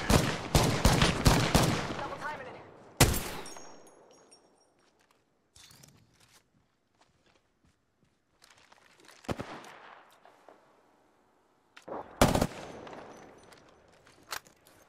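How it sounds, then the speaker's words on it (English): Gunfire in the battle royale video game Apex Legends: loud, rapid bursts of shots in a cluster at the start, then scattered single cracks and a later burst, with quiet gaps and faint footstep-like taps between. "Listen up, I'm getting shot at."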